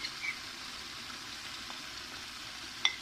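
Chicken karahi with black pepper cooking in a wok gives a quiet, steady sizzle with a faint background hiss and a couple of small pops or clinks near the end.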